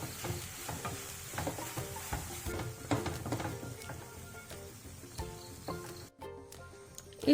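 Jaggery syrup being stirred and cooked down in a pan on a gas stove, with a steady sizzling bubble and repeated scraping strokes of the spoon, close and alone with no talk.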